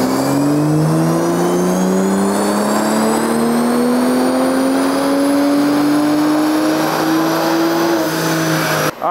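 A tuned 2025 BMW M340i with the B58 engine, running a JB4 map 4 tune on E30 fuel, revs hard on a dyno, its loud engine note climbing steadily in pitch for about nine seconds before cutting off abruptly.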